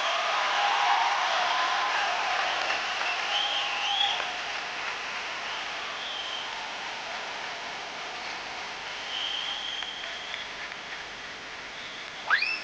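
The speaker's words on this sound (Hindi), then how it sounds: "जोरदार तालियां हो जाए एक बार।" Sustained studio audience clapping at a comedy talk show fills the space at a steady, moderate level, with occasional whistles cutting through before a sharp sound at the end.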